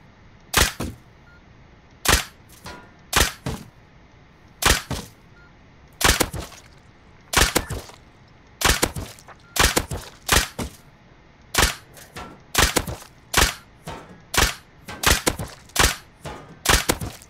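Sharp nailgun shots from a video game set on a cargo ship fire in irregular bursts, single cracks and quick pairs repeating steadily over a faint background hum.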